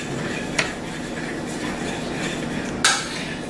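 Batter and flour are stirred in a bowl, making a steady soft churning scrape close by, with two brief sharper clacks of the utensil against the bowl.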